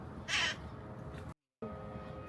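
A small parrot gives one harsh, raspy squawk from some distance in an outdoor city setting, followed by a low background hum and no further calls.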